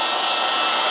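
A polisher runs at high speed, about 3,000, working resin over a coated surface, giving a steady close whirring hiss with no break.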